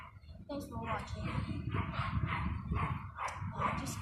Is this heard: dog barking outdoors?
yes